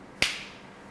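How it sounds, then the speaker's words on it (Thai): A single crisp finger snap, close and sharp, with a short fading tail and otherwise near silence. "ดีดนิ้วปับ๊บ ความรู้สึกนั้นกลับมาทันที"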